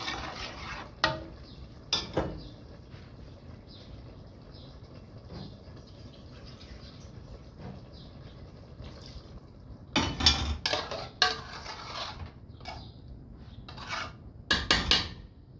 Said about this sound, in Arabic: ارجع للطماطم بتاعتنا الحلوه برضو ديت، نفضل نقلب فيها كده اهو